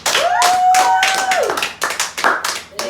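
Several sharp hand claps ring out in an uneven, quick rhythm at close range, mixed with a short, bright whistle-like tone and some background voices.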